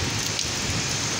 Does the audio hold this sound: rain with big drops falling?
yes